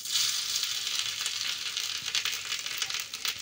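Carrots sizzle and fry in hot ghee in a pan for carrot halwa, a steady close crackling hiss that runs the whole time with small bright pops and no talking.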